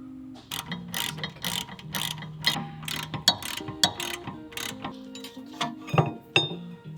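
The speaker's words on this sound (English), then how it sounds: "first step is to remove your caliper, and that's done with an M14 triple square" A ratchet with an M14 triple-square bit loosens the rear brake caliper bolts on a Mk5/6 VW GTI, giving close, rapid mechanical clicking in repeated bursts with short pauses between strokes.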